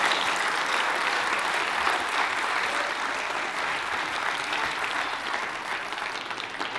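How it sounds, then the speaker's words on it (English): A conference audience applauds after a keynote, sustained broadband clapping running evenly throughout and easing slightly toward the end, with no voices on top. "One more round of applause, please."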